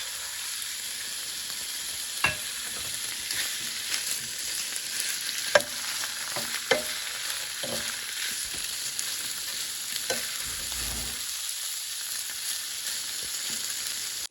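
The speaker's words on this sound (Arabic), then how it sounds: "هذا الدجاج فلسته، هسه راح اخليه ياخذ تشويحه" Chicken sautéing in hot oil in a pan for a quick Iraqi biryani, a steady close sizzle with occasional sharp clinks and scrapes of stirring, no talking.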